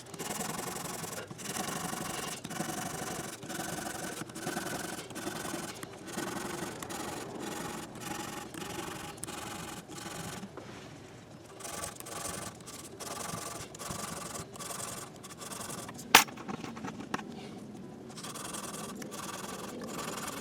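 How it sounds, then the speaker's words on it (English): Guitar frets on an Ibanez RX Series guitar are rubbed with 400-grit sandpaper in quiet, close, rhythmic back-and-forth strokes, each scrape repeating at a steady pace with a brief pause midway and a sharp tap near the end. "I'm going to take the same 400 grit sandpaper. I'm just going to try to shine these up a little bit now."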